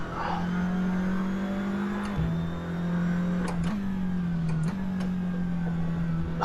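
A Seat Leon TCR race car in Assetto Corsa accelerates hard, its engine droning loudly and steadily with brief dips at each of several upshifts, heard alone without talk.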